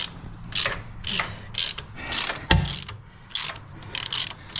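A ratchet wrench clicks back and forth in repeated strokes, loosening a tight 11/16 motor mount bolt on an M8 Touring motorcycle, with one sharper knock midway; loud and close, no talking.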